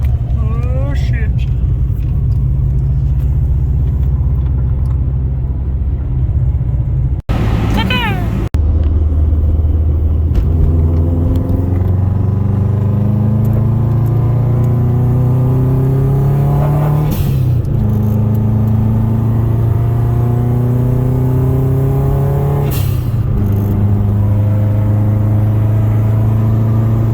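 An EF-generation Honda Civic that sat unused for over seven years drives along the road, its engine rumbling loud and close and climbing in steady revs through the gears, with a sharp knock partway through and a voice talking briefly.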